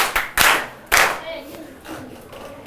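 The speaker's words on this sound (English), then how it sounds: "Clap yourselves." Pupils in a classroom clap for themselves after an English lesson, a few short loud bursts of hand claps near the start, then fading into quieter scattered sounds and faint voices.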